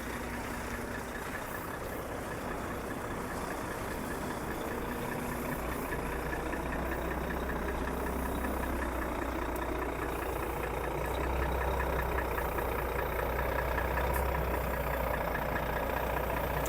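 A grain truck's engine idles steadily as it pulls in at a tire inflation point after inspection, a continuous low rumble with a faint mechanical whine, close by and unbroken for the whole stretch, with no talking.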